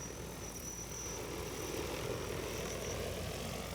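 An EAVision J100 agricultural drone hovering over a field, giving a continuous rotor whir with a faint high whine running through it, heard steadily on its own.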